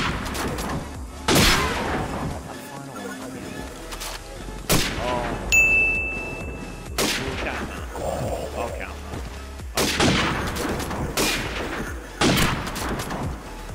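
Gunfire in Call of Duty 4: Modern Warfare during a one-on-one quick-scope sniper match on the Shipment map: several sharp, loud rifle shots spaced a few seconds apart, each followed by game effects and brief voice chat.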